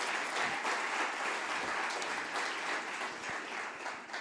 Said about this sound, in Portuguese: Então aplauda ao Senhor em nome de Jesus.